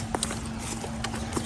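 A horse shifting its hooves while a rider mounts, a few soft scattered hoof knocks over a steady low hum, close but faint and brief.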